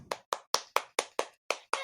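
Eight sharp, separate handclaps in an even rhythm, close and fairly faint, heard alone without other sound.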